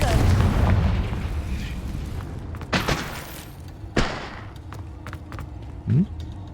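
Confringo spell explosions in Hogwarts Legacy: a loud rumbling blast fading at the start, then several sharp booming impacts around three, four and six seconds, with crackling debris between.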